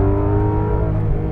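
The engine of a Porsche 911 GT3 drones steadily on a race track, heard close and loud from inside the car under throttle, with a strong, even harmonic tone that holds through the short moment.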